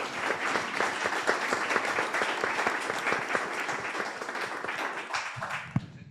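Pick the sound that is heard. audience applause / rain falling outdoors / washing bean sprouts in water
audience applause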